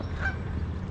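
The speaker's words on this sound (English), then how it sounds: "we have some geese that are hanging around here" Geese hanging around a yard where pallets are being moved give a short, distinct honk over a steady low rumble of background machinery or traffic.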